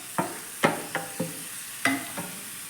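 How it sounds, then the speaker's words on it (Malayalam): Chopped onions being sautéed and stirred in a pan, with a faint steady sizzle under a series of about six distinct scraping strokes of the spoon, close and fairly quiet. "ഈ ഉള്ളി നന്നായിട്ട് നമുക്കിനി നന്നായിട്ട് വഴറ്റിയെടുക്കണം"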